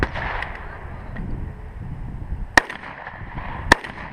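In a team shotgun match, two sharp shotgun blasts ring out about a second apart over outdoor background noise.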